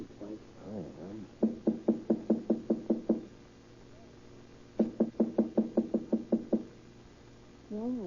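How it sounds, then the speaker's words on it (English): Two bursts of firm, evenly spaced knocks on an apartment door in an old radio police drama, about eight raps each, separated by a pause, with a voice speaking briefly before the first set and after the second. "Wait, I'll knock first."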